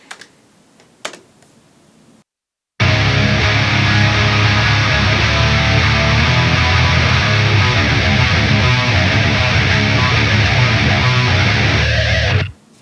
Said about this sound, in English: So all 4 of the guitars and then the bass tones together sounds like this.